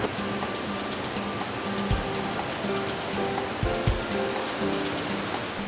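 Falling water at Mesa Falls in Idaho, a constant broad rushing roar heard close and loud throughout, with a few faint low thumps underneath.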